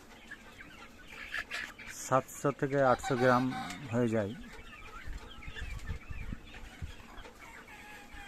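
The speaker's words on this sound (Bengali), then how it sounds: "এই আমাদের 1200 মুরগি আমরা চাষ করি" Broiler chickens, part of a flock of about 1200, cluck and call steadily on a farm while someone talks over them at close range.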